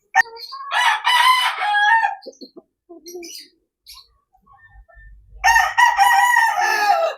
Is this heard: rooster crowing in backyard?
yes